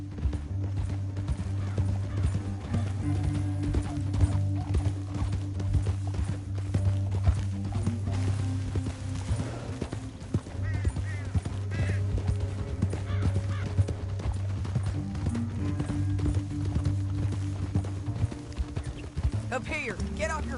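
Rapid rhythmic hoofbeats of galloping horses in Red Dead Redemption 2 pound steadily throughout, mixed with a low droning music bed and occasional louder clattering.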